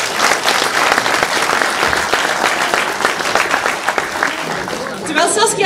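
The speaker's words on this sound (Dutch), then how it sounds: "En een groot applaus voor Saskia en haar collega's." A crowd claps steadily and loudly for several seconds, the applause fading slightly toward the end as a voice begins to speak.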